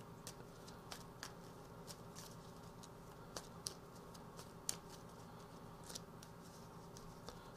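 Cards being shuffled during a Geister, Geister, Schatzsuchmeister board game, soft irregular riffling and tapping clicks, close and fairly quiet, with no talking.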